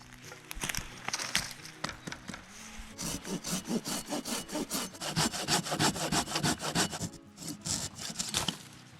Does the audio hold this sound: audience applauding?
no